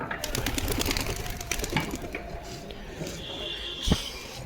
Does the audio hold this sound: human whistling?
no